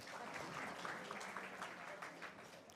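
An audience at a school campaign launch event claps together in a steady, fairly quiet round of applause heard from a distance, the crowd clapping continuously and tapering slightly toward the end.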